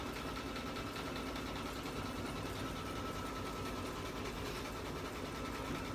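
An embroidery machine stitches out a coffee cup wrap design in the hoop at a reduced speed, a steady even mechanical whir with fast needle rhythm that runs without pause.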